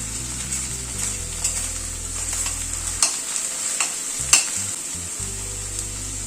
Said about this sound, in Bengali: এবার রসুনটাকে একটুখানি পেঁয়াজের সাথে কষিয়ে নেব।